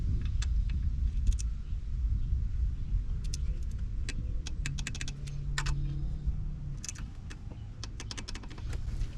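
A torque wrench clicks sharply several times as bolts on an AC compressor in a Subaru Impreza are tightened to spec, with quick bursts of metallic ratcheting and ticks standing out over a low rumbling background, close and without speech.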